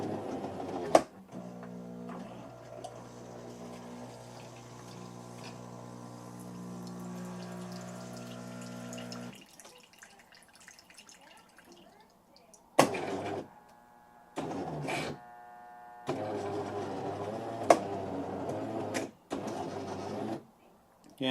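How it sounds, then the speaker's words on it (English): A Jura C9 automatic coffee maker runs its rinse cycle: a steady pump buzz and gurgling water for several seconds, a quiet pause, then several short bursts of pumping with sharp clicks. "Okay, so it says press rinse."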